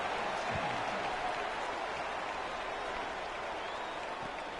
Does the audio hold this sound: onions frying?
no